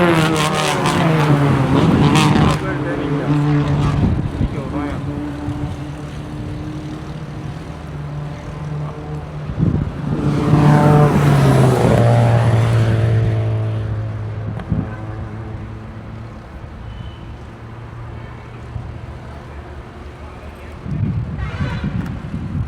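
Race car on a track at Iruingadu Kottai taking a turn, its engine droning loudly near with rising and falling pitch as it passes and brakes, over wind noise and someone talking throughout.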